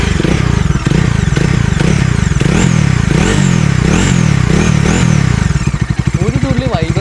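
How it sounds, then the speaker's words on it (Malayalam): A Bajaj Dominar 400 motorcycle's stock exhaust drones steadily as the engine revs, loud and close, with someone talking over it almost throughout. "ആ എക്സോസ്റ്റോട്ടുണ്ട്, ആ ബേസി എക്സോസ്റ്റോട്ടാണ് കേട്ടോ."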